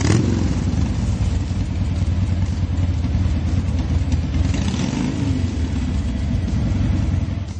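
A 1944 BSA W-M20 World War II motorcycle engine runs with a loud, continuous, rumbling throb that holds steady throughout, close by and with no talk.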